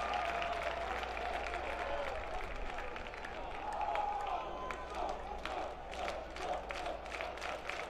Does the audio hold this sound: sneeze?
no